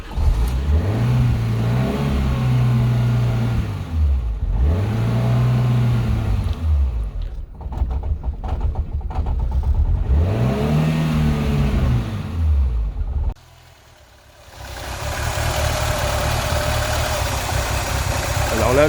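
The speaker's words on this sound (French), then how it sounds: "le ralenti ne tient pas, je cale. Donc je vais maintenir l'accélérateur." A Ford Fiesta Mk4 with an unstable idle revs up and sags repeatedly in rising and falling engine sweeps, then nearly stalls with a sudden drop before settling into a rough, low idle.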